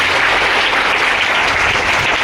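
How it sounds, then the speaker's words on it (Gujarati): A schoolroom crowd at an ashram school claps loudly and steadily, dense applause filling the space without pause or voices. "એવા જોરદાર તાળી મામા માટે પડો છે"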